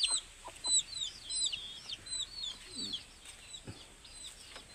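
Newly weaned young chickens in a coop built from scrap materials give soft, irregular clucks and high repeated chirps, quiet and close, with no talk over them.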